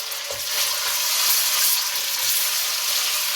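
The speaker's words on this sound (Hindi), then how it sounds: "अब लहसुन अदरक पेस्ट को इसमें भून लें।" Garlic ginger paste sizzles in hot oil in a wok, a steady close frying hiss with a few soft stirring scrapes.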